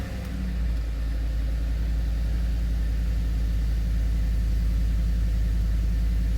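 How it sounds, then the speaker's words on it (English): A 2014 Ford F-150's 5.0L Coyote V8 fires up and settles into a steady, loud idle after new spark plugs are fitted, with a deep continuous rumble and no talking. "first startup. Let's see how good I did."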